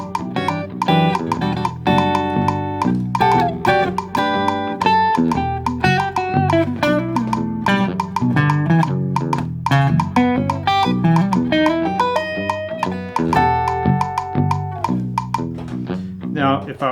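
A steady, continuous bass line phrased as four groups of triplets, played alone with a dense, even pulse.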